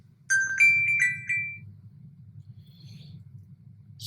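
A mobile phone rings with a short electronic tonal melody of a few rising beeps, fairly loud and near, followed by a low rumbling background and a brief handling noise at the end.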